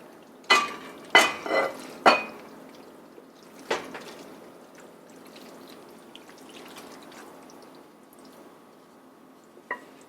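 Creamy tuna noodle casserole tipped from a pan into a buttered bowl, with a few sharp scraping clatters of utensil on pan early on, then quieter wet shuffling and one last small knock.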